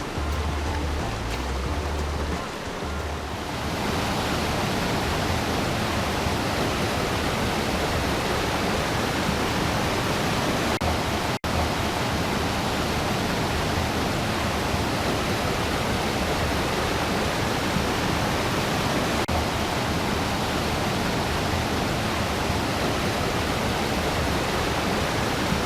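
The Mandeo river near Betanzos in A Coruña flows past large boulders, a loud, close and continuous rushing of water that holds steady throughout after a brief muffled rumble at the start.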